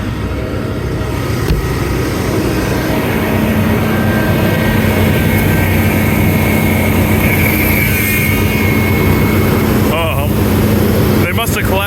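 A 2010 BMW X5 35d E70 diesel engine idles steadily through a cold start, a loud continuous drone with a faint whine, and talk occurs around it.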